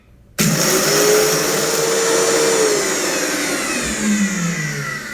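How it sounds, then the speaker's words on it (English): A Vitamix blender runs on high, grinding dried chilies into a fine powder: a loud, steady motor whine with rough grinding that starts abruptly and continues throughout, alone with no talk. "we're going to turn this on high, and we're going to blend this to a fine powder"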